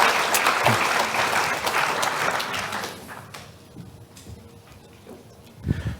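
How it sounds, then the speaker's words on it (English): Applause from a conference audience at the EU Asia Summit keynote in Brussels, a full clatter of clapping that thins and fades after a few seconds, with a brief thump near the end. "I think he deserves a thundering round of applause"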